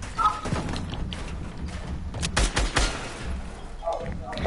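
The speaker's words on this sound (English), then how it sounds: "Stop shooting my stuff." Rapid video game gunfire, bursts of shots and thuds in a busy game mix, with a voice talking over parts of it.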